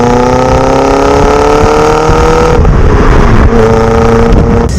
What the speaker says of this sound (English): 205 GTI has an aftermarket Miltec exhaust, and it just makes the engine sing.